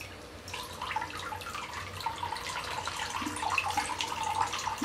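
Water flowing steadily through a larger water-cooling jacket on a Traxxas Slash 4x4 RC car, a continuous trickling, splashing stream with faint drips, close and unbroken without speech.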